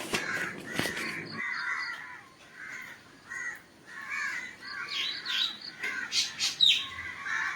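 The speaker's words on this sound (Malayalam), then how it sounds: "കിളികളൊക്കെ ഇങ്ങനെ കിടന്ന് കാറുമല്ലേ" Crows caw repeatedly, several harsh calls overlapping at close to middle distance over a faint background of smaller bird chirps.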